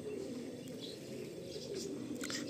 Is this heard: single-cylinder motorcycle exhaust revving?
no